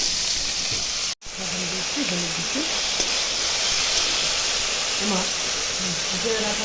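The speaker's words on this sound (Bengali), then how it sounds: "এখন কয়তাটা ভেজে নিচ্ছি কড়াই তেল দিয়ে নিচ্ছি" Steady, loud sizzling of fish frying in hot oil in a wok, continuous hiss with a brief cut near the start, and a voice faintly talking underneath.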